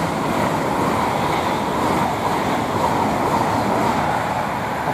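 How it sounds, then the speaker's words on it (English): A Bristol Temple Meads to London Paddington IET train approaching on the Great Western Main Line at Goring & Streatley, a steady loud broadband rumble and roar that holds throughout without a break. "a Bristol to London Paddington, Bristol Temple Meads that is, to London Paddington bound IET, which is approaching"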